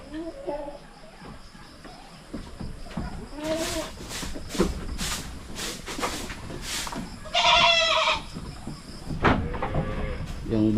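Goats on a small farm bleat several times, some near and some farther off, alongside a person talking and occasional rattling thumps.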